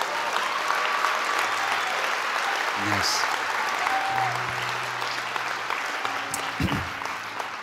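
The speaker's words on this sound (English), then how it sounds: "can you clap for Jesus?" A church congregation claps together during worship, sustained applause from many hands filling the room, with a brief spoken word and a few scattered vocal sounds and thumps rising above the clapping.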